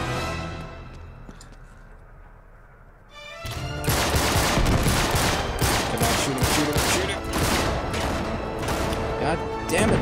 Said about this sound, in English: Damn it, shotguns!